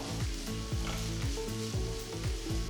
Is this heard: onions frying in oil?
yes